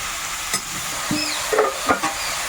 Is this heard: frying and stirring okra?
yes